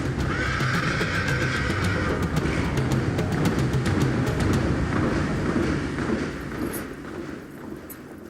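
A thoroughbred horse lets out a loud, drawn-out neigh near the start, followed by a steady rumbling background that fades toward the end.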